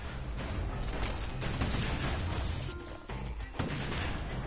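Heavy gunfire from a security skiff's guns in the video game Bastion, a loud continuous barrage of booming blasts with a few sharper cracks, dense and unbroken throughout.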